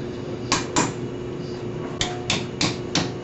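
Sharp metallic hammer blows bending an angle into metal for a hot rod shifter box, two close together, then four more spaced strikes over a steady background hum.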